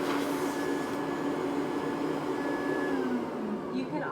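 A Rainbow water-filter vacuum cleaner runs continuously with a steady whining drone, close and constant throughout, with a faint voice underneath near the end.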